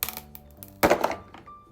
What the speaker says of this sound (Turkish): Kalemi kırdım.